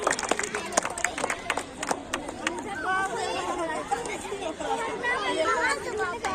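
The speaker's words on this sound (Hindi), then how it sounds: "एक बार जोरदार तालियां हो जाए" At a school annual function, an audience claps for the children in scattered, uneven bursts amid loud crowd chatter and voices, with the claps thinning as the talk carries on.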